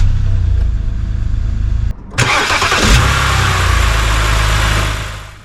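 A BMW 330i with the N52 straight-six engine cranks briefly on a newly fitted starter motor, catches and fires, revs up, then settles into a steady idle, loud and close.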